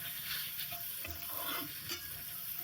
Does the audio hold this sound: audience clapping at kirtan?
no